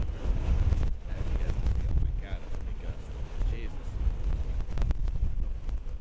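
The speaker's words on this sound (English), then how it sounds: "2 a.m. and it's super windy" Strong wind during Hurricane Milton at 2 a.m. buffets the microphone in a continuous, roaring rush with gusty surges, while a voice briefly murmurs underneath.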